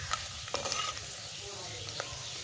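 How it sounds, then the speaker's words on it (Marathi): Millet flour roasts in a garlic tempering in a pan, with a low sizzle under scraping stirring strokes and a few soft knocks at close range. "लसूण थोडासा लाल झाला की 2 चमचे बाजरीचं पीठ भाजून टाकायचे."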